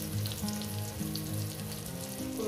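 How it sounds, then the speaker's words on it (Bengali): Steady sizzling as catla fish head fries in oil in a pan, a continuous soft crackle with small pops and no voices. "এটাকে আমি 4 মিনিটের মতন ভেজে নেব।"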